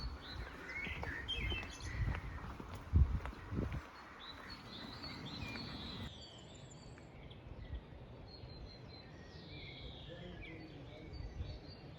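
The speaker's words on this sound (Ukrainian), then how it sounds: "скрізь пташки співають" Birds chirp and sing steadily outdoors in a quiet small town, Hirschberg, Germany, with a scatter of thin calls over a low background hum and some rustling early on.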